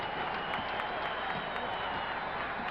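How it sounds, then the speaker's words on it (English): Basketball crowd at a 1973 Bullets home game on the University of Maryland campus cheering and applauding, a distant, steady wash of noise with scattered claps. "starting to cheer the home team"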